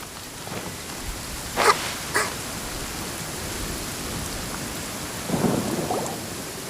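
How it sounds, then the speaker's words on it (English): A thunderstorm with steady rain in Genshin Impact: two sharp thunder cracks come close together early on, followed later by a deeper rumble, all over a constant hiss of falling rain. "Where is the storm headed?"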